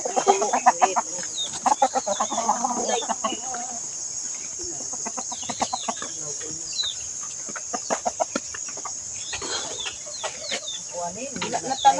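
Junglefowl chickens cluck in short, irregular bursts over a steady high insect drone, with occasional faint voices in the background.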